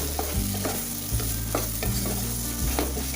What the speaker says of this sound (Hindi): अच्छे से मिक्स कर लीजिएगा कि मसाले हर जगह लग जाएं प्रॉपरली